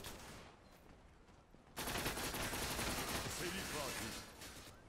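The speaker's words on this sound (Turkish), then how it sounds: "Kim sıkıyor lan?" Sustained gunfire from a Zula match, a quieter stretch giving way to dense, loud shooting that continues steadily to the end, with a voice talking faintly underneath.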